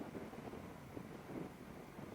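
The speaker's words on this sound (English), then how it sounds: "it's a bit windy" Wind buffets the microphone in a low, steady rush, with no talking.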